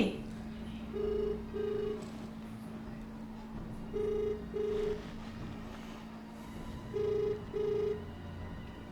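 A telephone rings in paired electronic trills, three double rings spaced evenly apart, fairly quiet against a low steady hum.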